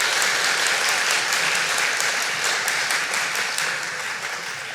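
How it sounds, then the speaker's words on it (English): An evening event audience gives a loud, dense round of applause for the sponsors, steady throughout and easing slightly near the end, with no voices heard. "A round of applause for our sponsors."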